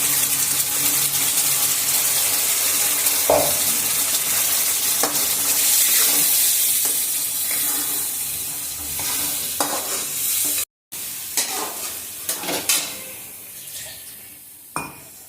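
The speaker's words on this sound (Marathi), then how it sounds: "इथे आपण आता हा वाटून घेतलेला मसाला सोडत आहोत कढईमध्ये" Ground masala for brinjal bhaji sizzles as it is stirred in an iron kadhai. A steady frying hiss runs under scraping spatula strokes and light clinks, with a brief drop in the sound partway through.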